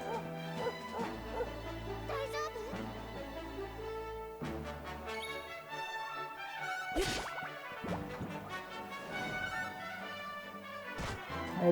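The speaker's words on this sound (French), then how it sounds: "Et le chien, il attaque aussi." A dog attacks during a Dragon Quest XI battle, with game barks, yips and thwacking hits layered over busy music and sound effects. The mix is dense and moderately loud.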